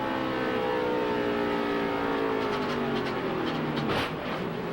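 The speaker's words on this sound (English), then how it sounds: "that's clearly a blown right front tire" Onboard a NASCAR race car at the 2005 Checker Auto Parts 500, limping with a blown right front tire after hitting the outside wall: steady loud engine drone with a slowly falling pitch, and a sharp burst near the end.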